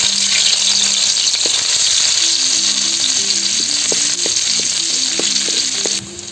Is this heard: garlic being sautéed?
yes